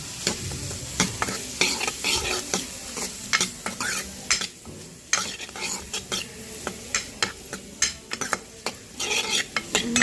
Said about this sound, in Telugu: పసుపు కూడా వేసేసుకొని మొత్తం అయితే కలిపేసేసుకున్నాం అండి బాగా